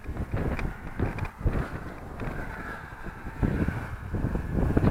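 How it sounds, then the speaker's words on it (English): Strong gusts in high winds buffet the microphone, producing uneven low rumbling bursts that rise and fall in loudness throughout, with no voices present. "It's windier up there, I think."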